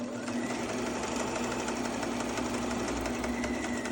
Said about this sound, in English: Back stitch, go down to that corner, drop your needle down, rotate